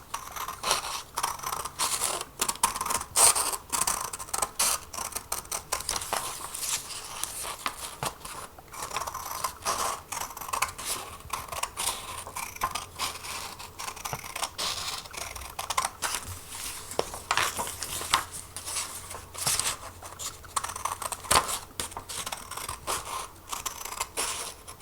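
Scissors snip through paper in quick, close crisp cuts with rustling and scraping between them, steady and unaccompanied by talk throughout.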